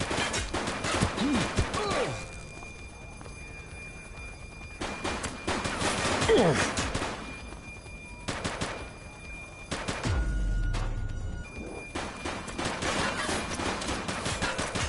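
Gunfire in a shootout in The Precinct, repeated bursts of automatic shots in several loud clusters across the span, with a heavy low boom near the end and quieter gaps between volleys.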